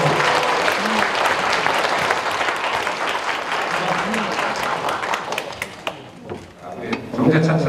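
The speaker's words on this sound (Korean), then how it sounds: "네, 큰 박수로 감사해주세요." An audience at a Korean university admissions information session breaks into loud sustained applause, many hands clapping densely for several seconds before it tapers off near the end, with some voices mixed in.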